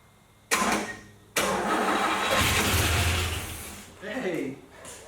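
A 1981 Pontiac Trans Am, sitting unused for 18 years, cranks and then fires up, settling into a loud, rough, sustained run near the listener. It ends with a brief fade and a short exclamation from people nearby.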